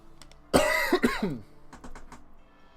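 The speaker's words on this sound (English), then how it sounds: "I'm coughing a little bit, though." A single close cough burst followed by a couple of softer throat-clearing coughs, then quiet with faint clicks.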